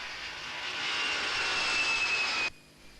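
An aircraft roars at Heathrow Airport, a loud steady engine rush that swells slightly then cuts off abruptly, leaving quiet ambience.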